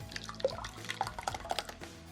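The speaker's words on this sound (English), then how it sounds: "we're gonna slowly pour it into this bowl" Beaten egg mixture for Korean steamed eggs poured slowly into a bowl, soft close dripping and trickling with scattered small liquid plops, with no talk.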